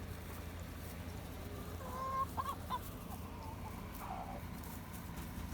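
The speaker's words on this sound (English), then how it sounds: "Good chickens!" A few backyard chickens cluck softly at a distance over a low, steady outdoor background, with a short cluster of calls in the middle and one more later on.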